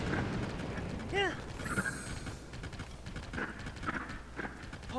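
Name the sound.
horse hooves clip-clop sound effects in Tears of the Kingdom video game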